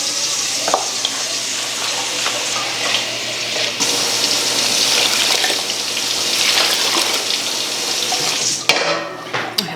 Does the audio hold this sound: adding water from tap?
yes